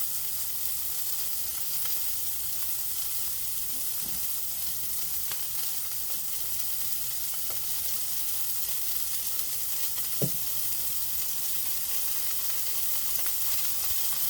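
Duck breast sizzles steadily in a hot pan, a continuous close frying hiss with a few faint clicks over about fourteen seconds and no talk.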